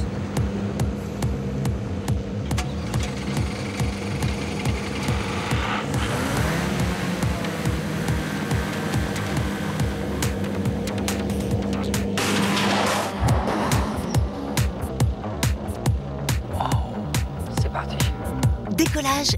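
A military tactical drone is catapulted from a ramp mounted on a truck and takes off. A loud, steady engine drone runs throughout, with a rushing surge partway through and another sharp burst later.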